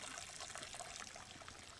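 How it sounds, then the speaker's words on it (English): Coolant drains from the opened plug beneath a 1982 Jeep CJ7 radiator during a cooling-system flush, a faint, steady trickle and dribble of liquid heard up close without voices. "So now open up the plug underneath the radiator, let it drain out."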